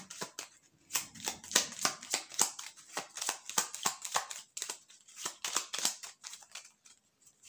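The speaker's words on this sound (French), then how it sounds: "j'ai mélangé les cartes" Tarot cards being shuffled by hand, a rapid series of crisp riffling and slapping bursts, close and fairly quiet, with no talking.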